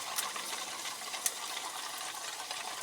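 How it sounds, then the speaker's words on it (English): Faint, steady hissing and fizzing of boiling liquid nitrogen on water-cooled computer RAM, with a few small sharp splashes popping out of the constant bubbling. "As you can see, it's bubbling. You've got some Ln2 splashing up"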